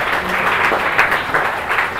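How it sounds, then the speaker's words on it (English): Audience applause at a TEDx event, a dense burst of many hands clapping together, loud and steady for a couple of seconds with no voices over it. "A good round of applause to both of them."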